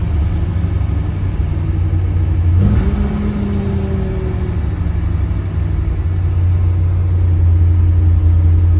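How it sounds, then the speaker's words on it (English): A 1972 Chevrolet Corvette LT-1 V8 fitted with Sniper EFI cranks and catches, with a brief rev rising and falling before it settles into a loud, steady, rumbling idle close by. "Sniper EFI starts right up."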